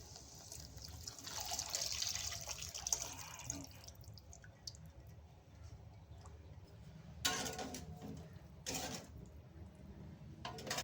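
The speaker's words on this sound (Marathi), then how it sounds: "या भाजी शिजवाय ज्या पाणी होतं ना ह्याच पाणी आपण टाकणार आहे भाजीत" Water left from boiling shevala, a wild vegetable, is poured into the cooking dish. It makes a faint trickle with a couple of brief louder splashes against a quiet kitchen background, and no one speaks.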